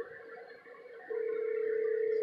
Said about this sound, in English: Somebody's trying to call.